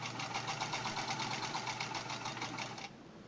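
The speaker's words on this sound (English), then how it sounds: "Now I've got this set on the maximum length stitch over here, and we're going to sew." A Sears Model 28 sewing machine stitching at its maximum stitch length gives a steady, rapid mechanical whir and clatter at even rhythm, close and fairly quiet, then cuts off near the end.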